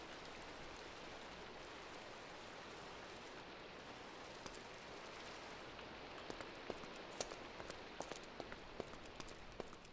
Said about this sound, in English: it's not great to have an open roof when it's raining.